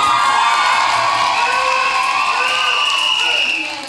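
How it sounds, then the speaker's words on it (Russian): A KVN comedy contest audience cheers, whoops and claps for a team taking the stage, a loud sustained crowd roar with shrill shouting that holds steady, then drops off at the very end. "Ваши аплодисменты"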